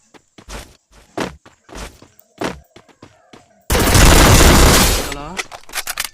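Gunfire in a shooting video game lands a headshot: a string of sharp separate shots and thuds, then a loud burst of sustained automatic fire lasting over a second before it cuts back to scattered hits.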